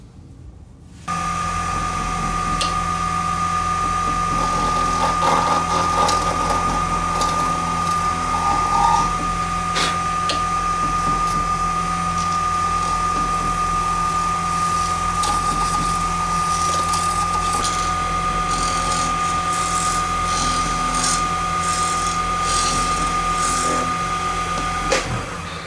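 A lathe turns down a color cast custom center band to the level of its stainless steel, giving a continuous steady whine and hum with a high tonal ring and occasional scraping bursts from the cutting tool, loud and close throughout.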